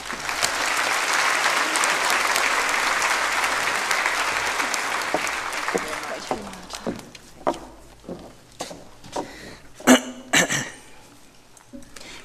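Conference audience applauds steadily for about six seconds to welcome the keynote speaker, Marta Maurás Perez, to the stage, then the clapping thins out into scattered claps and rustling in a large hall.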